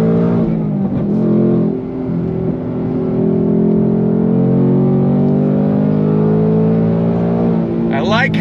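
A 2024 Ford Mustang Dark Horse V8 revs steadily in third gear during a drive, a loud, sustained engine drone with rising and falling harmonics that stays close throughout, with a brief talking voice near the start.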